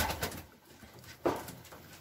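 Young pigeon released to fly at a loft, giving faint soft cooing and a brief flutter, with a slightly louder burst of wingbeats around the middle of the short quiet moment.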